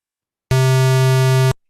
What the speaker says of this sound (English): So that's a square wave and a sine wave.